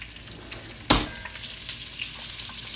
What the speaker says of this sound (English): I'm going to get a little sear on these vegetables.